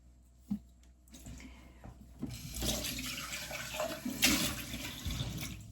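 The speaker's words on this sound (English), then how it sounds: "The next thing you're going to do is you're going to add a 1/2 cup of milk." Half a cup of milk is poured into a tangerine cake mix, a soft continuous liquid splash and trickle, fairly quiet and close, following a small knock at the start.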